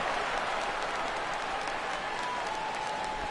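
A baseball stadium crowd at an MLB game gives a steady, broad roar of cheering and applause as a fly ball heads to right field, a dense wash of noise that holds level throughout.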